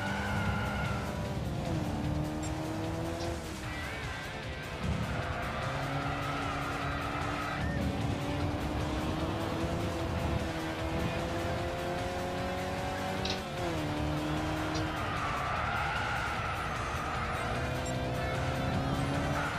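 Ferrari race car in the Gran Turismo 6 video game, a steady loud engine drone rising and falling through gear changes, with tire squeal and skidding layered over it throughout.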